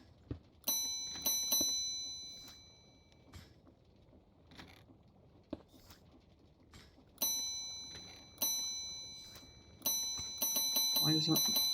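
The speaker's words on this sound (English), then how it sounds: "Every time I ring the bell, this should turn off." Bell chimes in Minecraft with the Create mod, several separate bright ringing strikes with long decaying tails, the last ones in a quick cluster, over quiet mechanical clicking and faint background noise.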